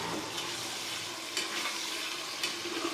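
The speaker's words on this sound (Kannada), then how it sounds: "ಈಗ ಆನಿಯನ್ನು ಚೆನ್ನಾಗಿ ಫ್ರೈ ಆಗಿದೆ. ಈಗ ಇದಕ್ಕೆ ಟೊಮೊಟೊ ಹಾಕ್ತಾಯಿದ್ದೀನಿ." Tomatoes go into onions already frying in a pan for chicken biryani, giving a steady close sizzle with a few louder spatters and scraping stirs, and no voices.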